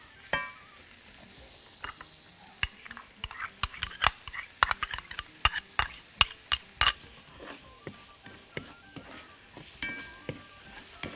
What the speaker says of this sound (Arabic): اقلب في البصل لحد ما يدبل